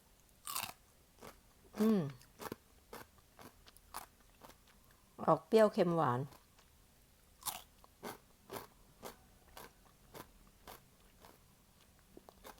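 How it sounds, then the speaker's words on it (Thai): A crisp pickled cucumber from a batch of three-flavour pickled vegetables is bitten and chewed close up, giving several sharp crunches in an uneven rhythm, with someone speaking briefly between the bites. "แตงกวาเนาะ ลองเคี้ยวดูนะ"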